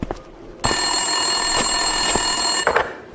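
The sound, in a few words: telephone ringing in the video game Max Payne 2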